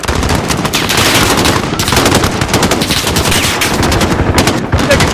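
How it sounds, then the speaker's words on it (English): Dense, loud rapid automatic gunfire from the Call of Duty Modern Warfare video game, with continuous bursts filling the scene nearly without pause. "Taking fire from the residence!"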